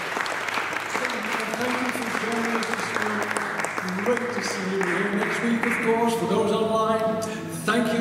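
A church congregation at St Paul's, Worcester, claps steadily and fairly loudly throughout, with voices rising over the clapping toward the end.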